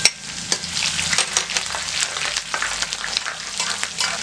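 Finely chopped green chillies sputter and sizzle in a hot pan, with sharp crackling pops and the scrape of a stirring spoon running throughout at close range.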